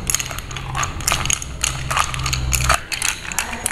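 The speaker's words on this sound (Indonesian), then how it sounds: "Oke, kita aduk-aduk dulu." An iced drink being stirred, with continuous gritty, rattling clinks of ice knocking against the glass in an irregular rhythm, close up over a low hum.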